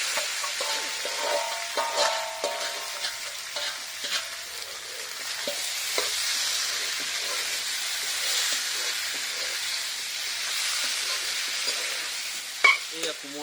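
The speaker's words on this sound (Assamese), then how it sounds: "মাংস ঢালিছে" Spiced duck meat sizzles steadily in a hot pan in a home kitchen, a dense frying hiss broken by stirring clatter, close and fairly loud, with no talking.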